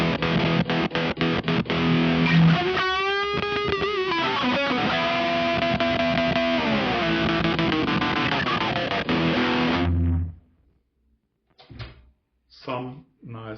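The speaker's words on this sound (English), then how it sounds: "Sounds very boring with clean sound, but with distortion." Distorted electric guitar played solo, with sustained crunchy chords and bending lead notes for about ten seconds before it cuts out. A few short, sharp knocks and thumps follow in near silence.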